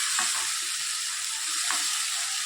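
Crushed tomatoes hitting a hot pan for a vegetable curry, a dense, steady hiss of sizzling with a couple of soft scraping knocks, close and even.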